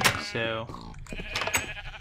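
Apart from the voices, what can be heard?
sheep bleating in a Minecraft server video game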